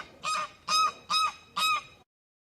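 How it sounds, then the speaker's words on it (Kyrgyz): A goose honking four times in an even rhythm, each call loud, nasal and close, with short gaps between them and silence after. "Каз."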